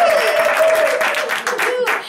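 A live studio audience claps in a short burst of dense applause while someone talks over it.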